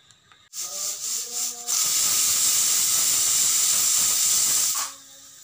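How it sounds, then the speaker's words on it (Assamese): A pressure cooker whistle lets off steam while cooking veg pulao: a few brief tones, then a loud, steady hiss for about three seconds that cuts off abruptly. "এটা চিটি মাৰাৰ পিছত মই নুমাই দিম।"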